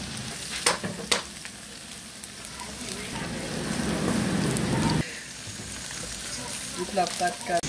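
Garlic frying in a pan, a dense crackling sizzle that swells as it cooks, with a few sharp clatters of a utensil against the pan, close and moderately quiet.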